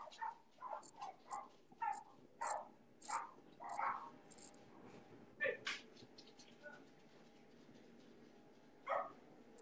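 Dogs bark in repeated sharp bursts, some clustered and some spaced apart, with a few thin whines among them against a quiet room background.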